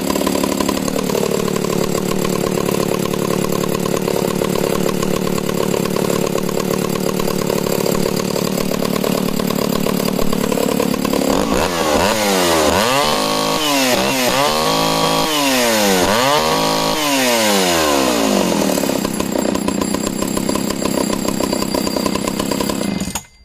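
An Echo CS-602 chainsaw with no chain brake runs loud and steady near the mic, revving up and holding a high whine before bogging and wavering through a cut, then returning to full throttle.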